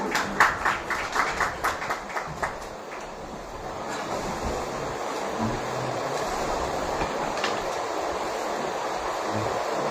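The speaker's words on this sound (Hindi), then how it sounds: "सर एक बार सर के लिए जोरदार तालियां।" Loud applause from an audience at a Hindi award ceremony, greeting the chief guest: a burst of rhythmic claps at the start that blurs into a sustained, dense crowd applause filling the rest.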